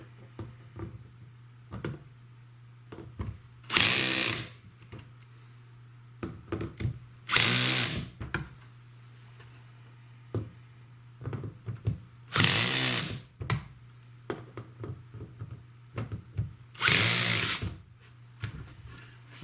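Power drill driving screws into a Keter plastic 120-litre raised garden bed, four loud bursts about every four seconds with quieter clicks and handling noises between them, heard close and without talk.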